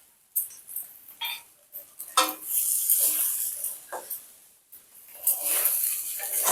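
A spoon stirs sabudana pulao with fried nuts, cashews and raisins in a pan, with close scraping and clattering strokes in irregular bursts over a light sizzle.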